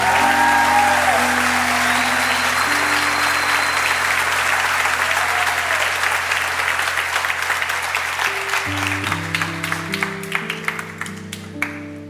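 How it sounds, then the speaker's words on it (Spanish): A church congregation applauds for Jesus during a Spanish-language sermon, steady sustained clapping that fades toward the end while sustained organ or keyboard chords play underneath. "Aplaude a Jesús, por favor."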